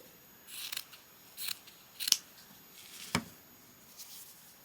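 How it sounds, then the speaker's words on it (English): Scissors snip through scrap fabric in a few quick, crisp cuts spaced irregularly apart, close and fairly quiet in an otherwise still room. "Let's cut a bit of that off."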